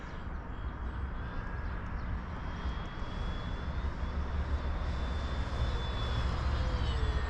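Twin-engine RC model airplane running at roughly 40% throttle, a steady continuous engine drone held at even volume for the whole stretch with no talking over it.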